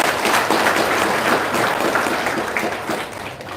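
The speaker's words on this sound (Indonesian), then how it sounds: "Tepuk tangan dia" Audience applause at a testimonial seminar, a burst of close, dense clapping that slowly tapers off over a few seconds.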